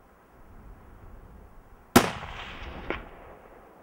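A single sharp hunting-rifle gunshot at a mouflon cracks out against quiet mountain background in Muela de Cortes, Spain, followed by a fainter echoing report about a second later.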